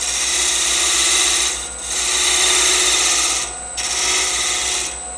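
A negative rake scraper takes a light cut on wood spinning on a lathe, giving a steady, close, abrasive rasping hiss that dips briefly twice as the tool eases off.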